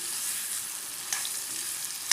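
Brinjal curry fries in a pan with a steady, close sizzling hiss that runs the whole time. Two brief sharper crackles or spatula scrapes cut through partway and near the end, and no one speaks.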